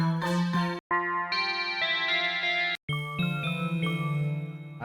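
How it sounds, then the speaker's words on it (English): Bell presets from an FL Studio FLEX pack ring out as sustained, bright tuned chimes in separate phrases, with two short silent breaks between them. "Let's look at bells. This one has some nice bells."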